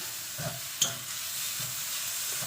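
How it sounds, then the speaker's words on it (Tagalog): Pinakbet vegetables sautéing in a pan with a little pork fat and no added oil, a steady soft sizzle broken by light stirring knocks and one sharp utensil clink. "Wait lang natin siya na masangkot siya."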